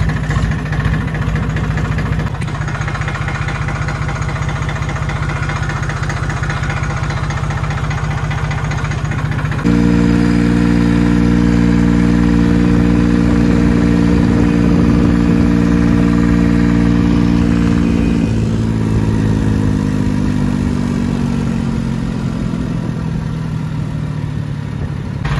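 Modified Farmtrac 60 tractor engine runs loud and close, a deep steady diesel idle that rises into a harder, higher-pitched working note as it drives, then eases down again, continuous throughout.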